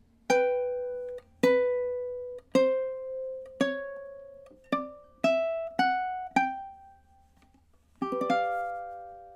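A high G ukulele plays two measures of a song alone: a run of bright plucked chords, first evenly spaced and then quicker, then a brief pause and a last chord left to ring.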